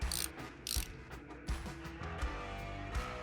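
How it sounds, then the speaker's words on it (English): A 9/16 Allen wrench ratchets while tightening the lower front fork pinch bolt on a motorcycle, making repeated close, crisp mechanical clicking strokes in a steady rhythm with no talking. "you're gonna take your Allen 9/16 wrench for that lower front fork pinch bolt"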